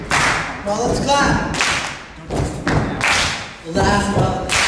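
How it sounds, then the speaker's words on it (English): A group of kids at a children's Bible-time gathering claps along in loose, uneven bursts of sharp claps and thuds, with voices talking over the clapping. "Well, let's clap."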